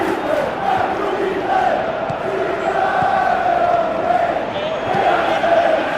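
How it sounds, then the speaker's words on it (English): A large football stadium crowd roars and rises in a sustained urging swell as an attacker runs down the left, a broad continuous wall of voices under a commentator's talk. "Crowd calling for him to shoot."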